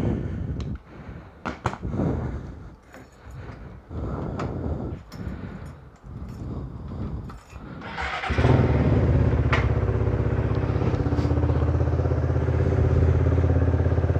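A Suzuki Satria F150 motorcycle with a custom hydraulic clutch clatters and clicks nearby for several seconds, then its engine starts and settles into a loud, steady, close running rumble with no talk.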